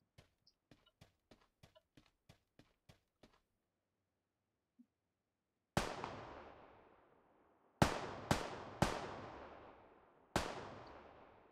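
Gunfire in PUBG, first a quick run of faint, sharp distant shots in a regular rhythm, then after a pause several loud, close single shots with long echoing tails.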